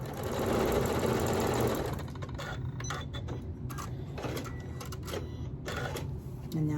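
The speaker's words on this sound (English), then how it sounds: "Take your time when you're sewing this." A home sewing machine stitches a quilt block for a Yankee Puzzle pattern, running in a steady mechanical whir with short stop-start bursts, close and clear, with a voice talking over it.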